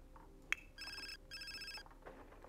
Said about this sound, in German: Klingelt irgendein Handy?